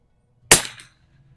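A single rifle shot cracks sharply and close during plinking with a Riton 3 Conquer 6-24x50 scope, its report trailing off in a short echo against otherwise quiet surroundings.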